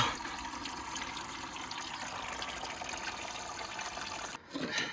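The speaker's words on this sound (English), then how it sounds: "Definitely gonna have to drain the oil." Oil draining out of a vehicle transmission during a Valair twin disk clutch install gives a steady trickling, splashing liquid sound that runs continuously, briefly dipping near the end.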